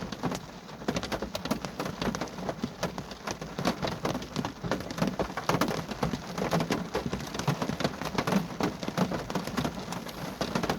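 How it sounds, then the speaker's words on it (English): Steady rain patters on a surface in a continuous, dense hiss with scattered louder drops, fairly close and without any voices, at a graveyard. "I don't like the rain anymore."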